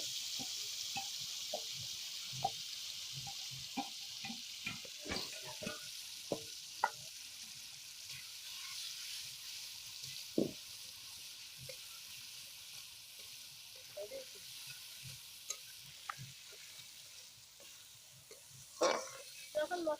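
Spice masala fries in oil in a wok for a village-style chicken roast, giving a steady soft sizzle with scattered clicks and spatters throughout, fairly quiet and close, with no talk.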